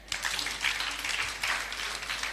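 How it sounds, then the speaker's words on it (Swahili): A church congregation claps together during a sermon, producing a steady, dense patter of many hands that holds at an even level for a couple of seconds. "Si mtipigie makofi."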